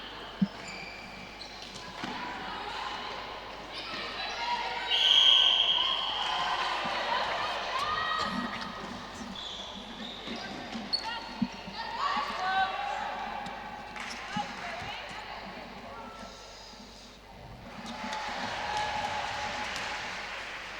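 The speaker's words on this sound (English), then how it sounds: "You can actually hear the girls cheering on their teammates." Netball match at the Europe U17 Championships, England versus Northern Ireland, with girls cheering on their teammates from courtside, a steady crowd wash of shouts and applause that swells and fades throughout, with voices audible amid it.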